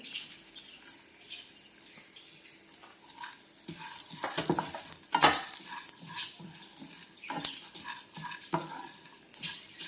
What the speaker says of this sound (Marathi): याच्यामध्येच आपण हे बाकीचे सूर्यफूल आणि कोहळ्याच्या बिया आणि मगज बिया आपण हेही सगळं फ्राय करून घेऊया